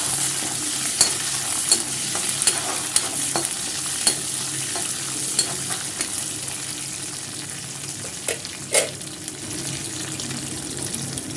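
Cumin, cashews, curry leaves and pepper sizzle gently in hot oil in a pan for kodo millet pongal, while a spoon stirs with scattered clicks and scrapes under a steady frying hiss.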